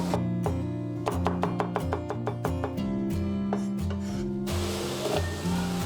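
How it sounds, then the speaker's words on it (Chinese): A kitchen knife chops scallion, ginger and garlic on a board in a quick run of crisp, evenly spaced taps, over a steady background of soft music, then a brief rougher scraping sound. "再准备适量的葱姜蒜，然后我们切片备用。"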